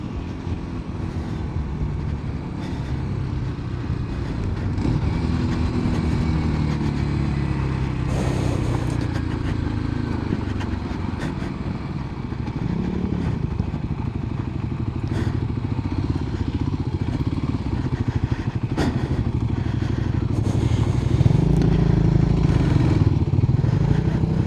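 Kawasaki KLX300 dirt bike engine held in second gear on backroads and trails, a continuous close drone rising and falling across the rev range, with thumps and clatter from the terrain.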